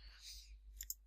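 Two quick, faint mouse clicks, close together near the end, made while working in Blender 3D software, over a quiet room background.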